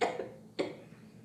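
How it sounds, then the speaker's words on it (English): Two short coughs from one person, about half a second apart, near and moderately loud. "She attempts to breathe, but she coughs."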